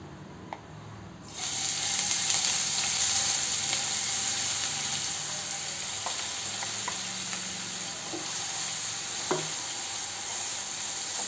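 Coarsely ground onion paste goes into hot oil for a pepper crab curry and sets off a sudden loud sizzle. The frying then hisses steadily, with occasional clicks and spoon scrapes from stirring and no talking.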